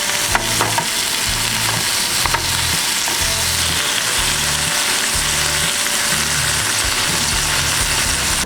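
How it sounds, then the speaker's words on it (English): Bacon-wrapped stuffed duck poppers sear in a hot pan, a steady close sizzle running throughout with a few faint clinks of utensils and a low rhythmic hum underneath. "Get your duck up there and get it seared to on both sides."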